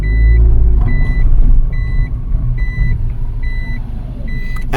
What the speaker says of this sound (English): And put it in reverse. Let's move back.